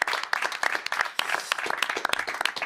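Scattered applause from a small audience at the close of a French panel on farm policy and food, clapping in uneven bursts at close range with no talk over it.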